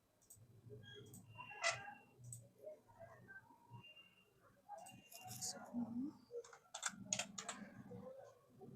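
Quiet clicks of typing on a computer keyboard, scattered keystrokes coming in short clusters beneath someone talking over them.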